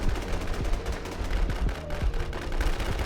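Rapid gunfire from the online shooter game Warz, with bursts and single shots in an irregular rhythm over steady game background noise, firing through a window, with no talk.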